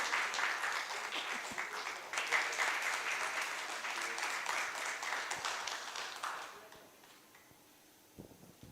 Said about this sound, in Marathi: अर्थात तुम्हाला बघून टाळ्या पडल्या उत्स्फूर्त